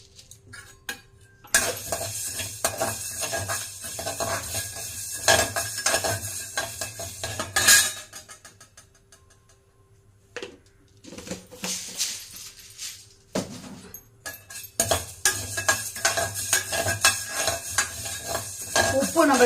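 Coriander seeds tossed into a pan and stirred, with repeated scraping and clinking of a utensil against metal, a brief pause midway, then steady stirring resumes close and fairly loud.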